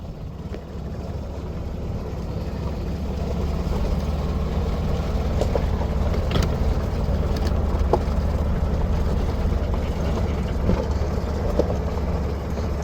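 A farm utility vehicle engine runs steadily at a loud, constant level as it is put in gear and pulls away outdoors, a continuous droning rumble with faint knocks and rattles, no talking.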